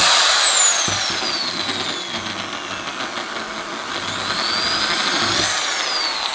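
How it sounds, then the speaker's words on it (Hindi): A Bosch 500W 10RE electric drill boring into a pipe, a loud high whining motor with pitch glides as the load shifts, steady and close. "तो आप देख सकते हो बिल्कुल ही मक्खन की तरह ये ड्रिल कर रहा है।"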